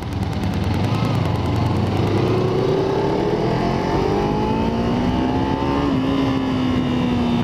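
A Kawasaki Z300 motorcycle engine on a test ride, with a slipping, hard clutch, revs up steadily, its rising whine climbing in pitch over a loud, continuous mechanical rattle close to the microphone.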